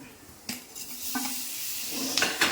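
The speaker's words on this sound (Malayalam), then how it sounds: "അപ്പോൾ തക്കാളി ഇട്ട് കൊടുക്കാം" Tomatoes hit hot oil in a pan for Kerala tomato curry, giving a soft broadband sizzle with a few clinks of a spoon against the pan, fairly quiet and without speech.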